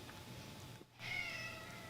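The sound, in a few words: cat meowing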